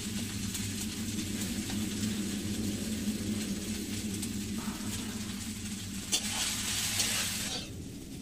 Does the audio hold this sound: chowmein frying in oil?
yes